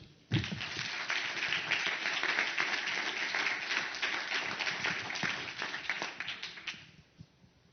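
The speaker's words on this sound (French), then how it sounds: "Et qui sont dans la salle et que je vous demande d'applaudir." Audience in a hall at an award ceremony breaking into applause, a sudden onset of many clapping hands that holds steady and dense before thinning out and fading near the end.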